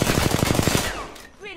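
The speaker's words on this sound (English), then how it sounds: "Getting shot at." Rapid automatic gunfire in Apex Legends, a fast burst of close, loud shots that cuts off after about a second, followed by a brief electronic whine.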